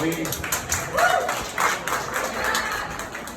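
Audience applause at a mayoral meet-and-greet, scattered hand claps at moderate distance mixed with crowd murmur and voices talking.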